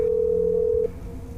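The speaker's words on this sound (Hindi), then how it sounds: "फिर से डॉक्टर को फोन किया तो" A single steady telephone tone hums for under a second, then cuts off, leaving quiet low background noise.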